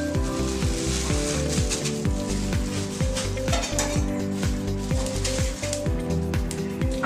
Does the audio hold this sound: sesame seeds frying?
yes